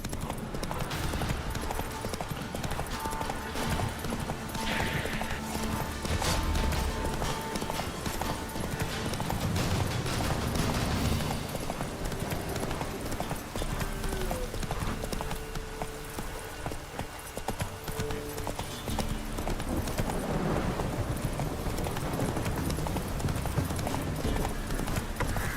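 Roach the horse galloping in The Witcher 3: Wild Hunt on PS5, a continuous run of rapid hoofbeats over busy game ambience, with a brief neigh.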